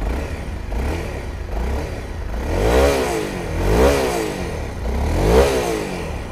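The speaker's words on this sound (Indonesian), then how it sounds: "Itu dia bunyi original muffler dia." A Honda CRF 250L, a 250cc scrambler motorcycle on its original muffler, idling nearby and then blipped three times in rising and falling revs, each swell clear and mid-loud.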